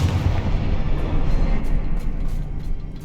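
A Confringo blasting spell explodes in the Hogwarts Legacy video game, giving a loud, deep, rumbling boom that rolls on steadily throughout with no pause and no voices.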